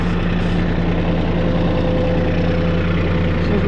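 Small engine on a bladed machine used for a pond clean-out runs at a steady, loud idle with a low rumbling drone and faint knocking pulses, continuous and close, with no talking.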